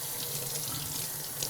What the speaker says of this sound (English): I'm just going to turn on some cold water.